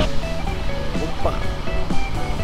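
A motorcycle churns through deep floodwater on a city avenue during a river flood, with a steady rushing, splashing wash loud and close throughout and someone talking over it.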